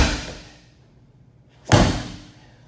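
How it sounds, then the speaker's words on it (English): An exercise ball slammed hard on the ground during a slam chop workout, with one loud close thud after a fading earlier impact and quiet gap. "When you do a slam chop, the ball hits the ground, you catch it on the rebound"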